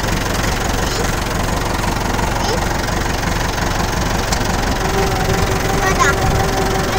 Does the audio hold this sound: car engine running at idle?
yes